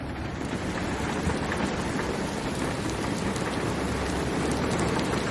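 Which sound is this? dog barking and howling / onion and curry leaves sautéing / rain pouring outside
rain pouring outside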